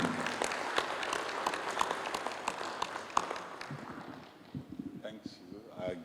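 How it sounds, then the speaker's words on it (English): A plenary session audience at a regional science conference gives a round of applause, scattered sharp claps fading out after about four seconds, followed by a few faint taps and a voice. "celebrate by giving applause to all of us."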